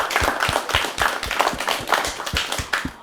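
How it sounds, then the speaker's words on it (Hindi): A studio audience at a national children's awards programme applauds, a steady wash of many clapping hands with a few sharper individual claps standing out, continuous and fairly loud. "जोरदार तालियां इस छोटी सी बच्ची के लिए।"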